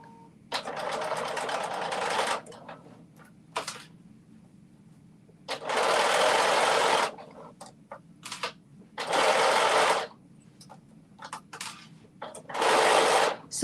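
A sewing machine stitches a dress in four separate bursts of rapid whirring, each a second or two long, with short quiet pauses between them and a single brief blip near the middle.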